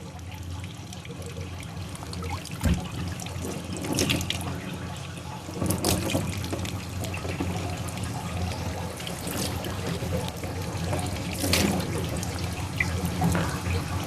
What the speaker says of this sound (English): Now we're going to run warm water through the casings to flush out the internal salt and to open them up